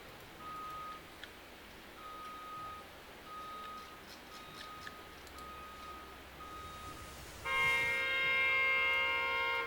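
Truck reversing beeps from the road outside an office, a faint, distant series of evenly spaced single tones over a low hum, followed by a louder, richer electronic tone near the end.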